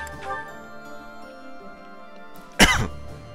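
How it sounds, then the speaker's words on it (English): A single short, sharp cough from a person with a lingering months-long cough, standing out loud and close against quiet game music in the background. "I hate this little baby cough I have."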